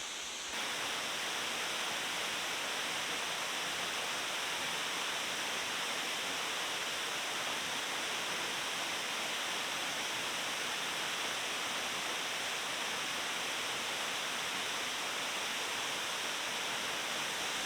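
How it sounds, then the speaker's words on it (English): A steady, powerful roar of a waterfall in Japan, broad and continuous, filling the whole stretch without pause. "just so you can really hear the roar of this waterfall"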